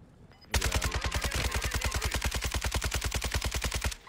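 Rapid automatic gunfire in a multiplayer shooter game, a long unbroken burst of evenly spaced loud shots lasting about three and a half seconds, close and dominant with no voices over it.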